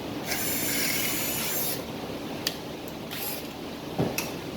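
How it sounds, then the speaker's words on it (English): A power drill with a quarter-inch bit grinds and rasps through the wooden end of a Native American flute, a continuous scraping whir punctuated by a few sharp clicks and taps. "I was going to drill this out for you too."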